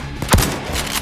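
Gunfire in a zombie co-op shooter game: a sharp, loud shot near the start followed by a dense burst of rapid fire, with steady rattle continuing behind.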